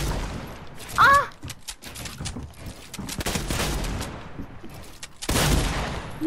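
Bursts of video game gunfire crack out in a rapid cluster, then further shots and a heavy volley near the end, mixed with talking over the action.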